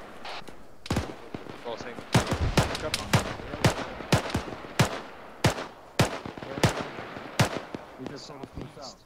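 Bursts of machine gun suppressive fire crack out in the Arma 3 military video game, repeated sharp shots in an uneven rhythm, some close and loud, with radio chatter from players in the background.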